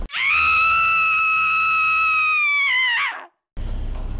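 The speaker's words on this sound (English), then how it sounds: "I could hear a horrible scream" Deep, rumbling blasts roll on continuously, loud and sustained, like distant bomb explosions echoing across open ground, from the Pokhran nuclear test in Rajasthan, India.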